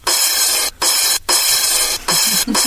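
A voice mimics the tinny high-pitched hiss that leaks from someone's headphones, producing bursts of close, loud, breathy noise broken by short gaps.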